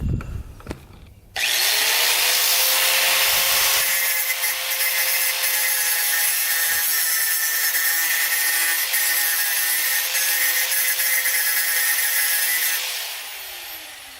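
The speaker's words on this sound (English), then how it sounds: "We're just gonna grind off the top here quick." An angle grinder cuts into a metal tab for a go-kart with a loud, steady high-pitched grinding whine that starts abruptly, holds for about eleven seconds close up, then winds down.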